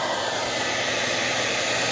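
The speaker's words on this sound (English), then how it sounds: "I'm just taking this hair dryer. I'm just keeping it moving." A hair dryer blows steadily at close range on a Camaro door molding, a constant loud whooshing hum with no pauses or voices.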